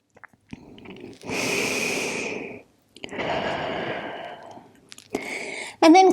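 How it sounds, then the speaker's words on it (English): Slow, deep breaths taken while resting in child's pose during a relaxing yoga session, two long airy inhale-exhale waves close to the ear, followed by a shorter breath and a brief soft tone at the end. "Let's take a couple good breaths here."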